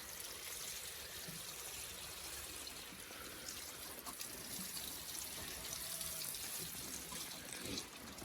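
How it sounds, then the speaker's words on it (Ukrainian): Water pours steadily from a hose or can onto onions planted in a greenhouse, a continuous close splashing trickle with no pauses and no talk. "Зараз хорошенько підливаємо цибулю. не жаліючи водички."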